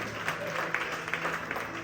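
Wives in the audience of a church marriage seminar applaud their husbands, a short burst of scattered, moderately loud clapping with a speaker's voice carrying over it.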